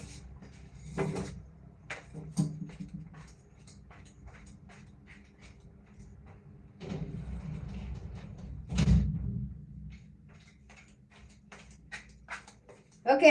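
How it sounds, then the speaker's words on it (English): A balcony door is handled and shut in a home, giving a few sharp thumps and clatters spread out over the stretch, the loudest near the end, against quiet room background with faint distant sound. "I think I left my balcony door open. I need to close it"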